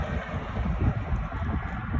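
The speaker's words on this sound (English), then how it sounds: "The car's driving past, so it's a little noisy right now." Low, rumbling outdoor noise with heavy wind buffeting the microphone, a vehicle's drone swelling and passing close by.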